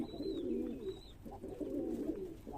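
Soft, low pigeon coos repeat in a gentle rhythm, close by at a pigeon farm, with a faint high bird chirp early on.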